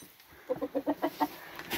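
Game chicken rooster clucking close by, a quick run of about six rhythmic clucks in a row over quiet farmyard background.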